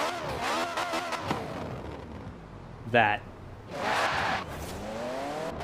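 An Ariel Atom V8 in Forza Horizon 4 revving through rising and falling gear sweeps, with a sharp burst of tire squeal midway, engine moderately loud beneath someone talking throughout.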